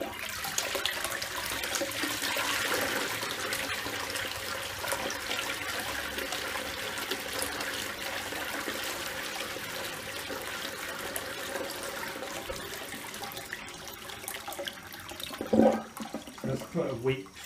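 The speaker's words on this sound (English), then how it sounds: "That's quite a weak flush." Toilet flush in a public toilet block, a weak, steady rush of water lasting most of the span, with a bump of handling noise near the end.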